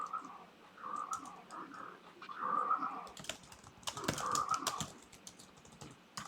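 Rapid clicking keystrokes on a computer keyboard come in bursts, close and fairly crisp, with a steady hum underneath and the clatter growing denser in the second half.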